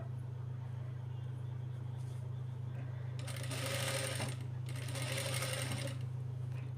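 A sewing machine stitches a blouse for a children's lehenga sized for 8 to 10 year olds. It runs in two quick, rattling bursts near the end over a steady low electrical hum.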